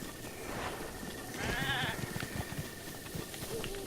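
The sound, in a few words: goat bleating in Zelda Breath of the Wild video game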